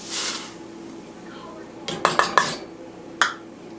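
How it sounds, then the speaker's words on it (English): Rice gets stirred in a pot, a soft swish followed by a few sharp metallic clinks of a utensil against the pot, close and fairly loud, with no voices. "Give it a good stir. And also put the 1 cup of rice right on in."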